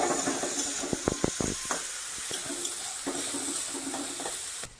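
Water poured into a hot pan of oil with chopped onion, garlic, ginger and green chilli, a steady rushing hiss and bubbling with a few sharp clinks and taps, close and loud throughout.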